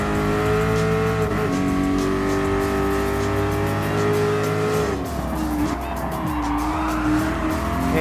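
A race car engine in Gran Turismo Sport during a Nostalgic Car Festival event on a reverse track, holding a loud, steady high-revving drone with gear shifts and brief tire squeal, close and continuous throughout.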